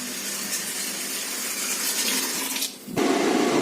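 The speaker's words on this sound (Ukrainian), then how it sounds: "Вмикаємо гарячу воду." Hot water runs steadily from a household tap, a broad continuous hiss that briefly cuts off near the end before resuming louder and closer.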